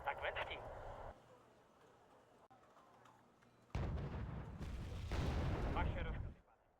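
Video game artillery booms from an R2 artillery piece, a few distant-sounding blasts with rumbling tails, the first brief and the later ones fuller and longer, all fairly quiet beneath the mix.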